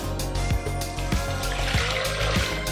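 Strained homemade vegetable stock poured onto a counter, a steady liquid stream with a faint splashing texture, accompanied by a few soft regular knocks and bumps close by.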